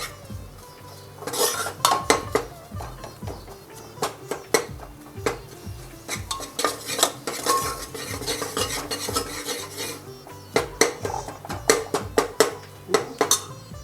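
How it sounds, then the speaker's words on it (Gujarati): Flour roasts in a pan for a Sindhi vegetable kadhi, with a metal spoon scraping and clinking against the pan in quick irregular strokes over a faint sizzle, close and fairly loud, with no voices. "લોટ એકદમ સારી રીતે આપણે શેકીશું"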